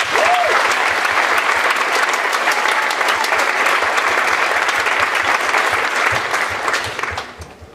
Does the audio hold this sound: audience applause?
yes